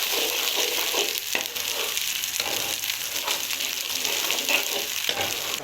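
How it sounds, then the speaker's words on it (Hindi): Ginger garlic paste frying with onions in a pan, a steady close sizzle and crackle with faint stirring scrapes, continuous and loud, with no talking. "हमने अदरक लहसुन के पेस्ट को अच्छे तरीके से फ्राई कर लिया है प्याजों के साथ"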